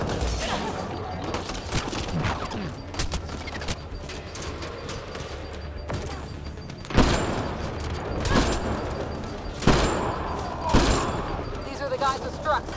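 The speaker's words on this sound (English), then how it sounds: "What are they shooting at us for?" Outlaws fire guns in the video game Mass Effect Andromeda, a dense crackle of repeated shots with several louder nearby bursts, heard under speech and game sounds.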